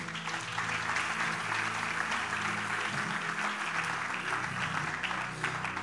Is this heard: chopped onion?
no